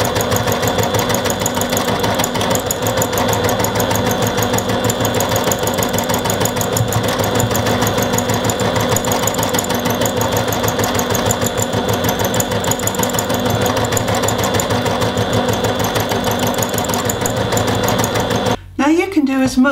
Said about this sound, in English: As much of this free motion stitching as you like.